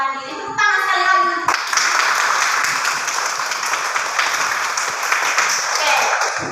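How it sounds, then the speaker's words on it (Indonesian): Children in an elementary school classroom clap their hands together, a dense, steady burst of applause that follows a brief stretch of talking and carries on loud and close without pause. "Tepuk tangan sekali lagi"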